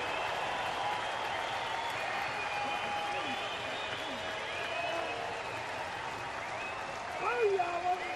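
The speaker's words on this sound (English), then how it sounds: "Crowd on their feet at the K." A baseball crowd at Kansas City cheers and applauds after a strikeout in an Oakland at Kansas City game, a broad, sustained roar at moderate distance that swells near the end, under a commentator's voice.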